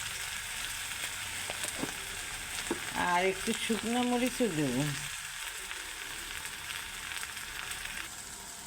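Tomato bhaji with salt, turmeric and chili fries steadily in a pan, a continuous close sizzle with a brief burst of stirring clatter in the middle, while someone speaks over it.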